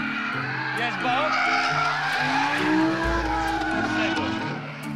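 A car drifts sideways under power with a loud, sustained squeal of tires over a revving engine, heard close and continuously while people talk over it.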